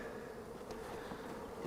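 Honey bees buzz faintly around an open hive during an early spring brood box inspection, a soft continuous hum with no voices.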